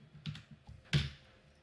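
A few sparse keystrokes on a computer keyboard, close and fairly quiet, with one sharper louder key press near the end and no talking.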